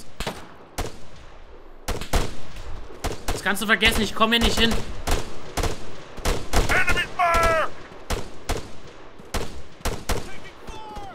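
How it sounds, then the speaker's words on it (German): Gunfire in the video game Arma 3, shots coming down from a mountain: sharp cracks and bursts scattered across the scene, some near and some farther off, mixed with someone talking over them and radio-like chatter. "irgendwie kommen Schüsse vom Berg runter"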